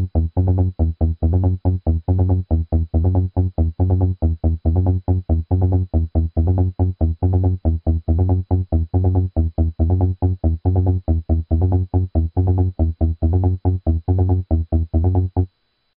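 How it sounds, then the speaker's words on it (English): An internal bass patch on a groovebox runs a fast, steady sequence of short punchy notes, buzzy and loud, repeating a tight pattern for about fifteen seconds with no voices. "I'm going to play a sound for you, an internal sound, an internal bass sound."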